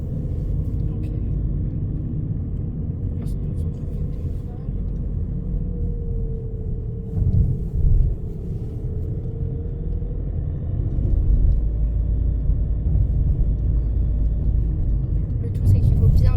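A car drives slowly through an underground parking garage in Metz, a low enclosed engine rumble rising and falling as it manoeuvres, with a person speaking over the steady droning.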